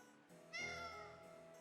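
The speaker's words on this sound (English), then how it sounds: "Oh no, not the cat!" A cat meows once in a video game, a drawn-out, clear call over a steady low background of game sound.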